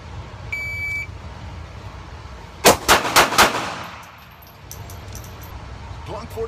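SIG P238 pistol fired in four quick, sharp, loud shots in a row, with a short electronic beep before them and quiet ambient noise afterward.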